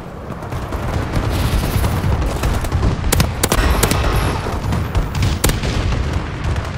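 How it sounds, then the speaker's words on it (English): Airstrike explosions from a bombing run in Call of Duty: Advanced Warfare: a loud, steady rumble of blasts with several sharp cracks bunched in the middle and another near the end, with no talking. "Friendly bombing run incoming."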